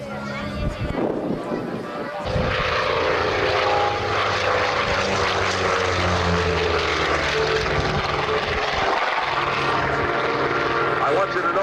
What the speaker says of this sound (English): Look at the extremely slow speed you can get out of this airplane.